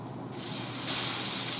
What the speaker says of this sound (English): Yeah, you hear that sizzle?